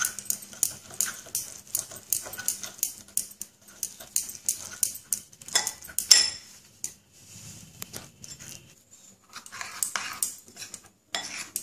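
Pumpkin flower fritter batter being mixed by hand with small splashes of water, a steady run of wet slapping, stirring and bowl clatter repeating through most of the stretch, with a short quieter pause before the mixing resumes.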